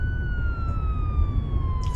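A police car siren wails in a steady, rising-and-falling tone that drifts slowly lower in pitch, loud and continuous over a constant low rumble of traffic or engine noise, with no talking.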